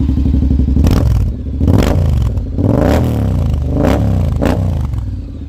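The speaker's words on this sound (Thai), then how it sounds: "มาฟังเสียง ท่อกันดีกว่านะ" A red 2021 Honda X-ADV 750 scooter with an SC aftermarket exhaust revs loudly and close, several sharp throttle blips rising and falling over a steady deep idle, with no talking.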